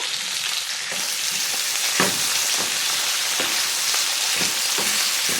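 Potato fry sizzles steadily in hot oil in a pan after salt and turmeric go in, with a broad hiss throughout and regular scraping stirs every half-second or so.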